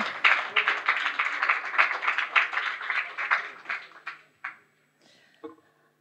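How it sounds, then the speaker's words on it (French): Audience at the Zermatt Summit 2017 round table applauds panel speakers coming on stage, a steady patter of clapping for about four seconds that thins into a few scattered claps and then quiet. "Vous pouvez les applaudir pour les encourager."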